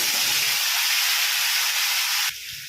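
Potatoes dropped into hot oil for a Bengali rui fish and potato curry give a loud, steady hissing sizzle that cuts off abruptly near the end.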